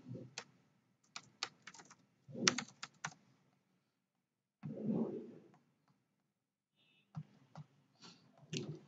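Bursts of fast computer keyboard typing, close and clicky, separated by short pauses and a brief duller shuffle.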